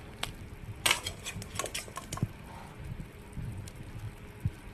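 Soft clinks and scrapes of a utensil against a pot as pineapple is added to a chicken soup, with a brief clatter near the start, then gentle intermittent stirring sounds.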